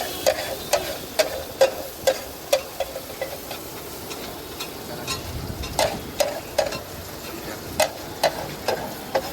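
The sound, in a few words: vegetables frying in a pan with cumin for sabji bhaji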